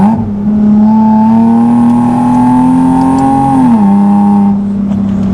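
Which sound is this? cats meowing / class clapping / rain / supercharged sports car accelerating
supercharged sports car accelerating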